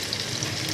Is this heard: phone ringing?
no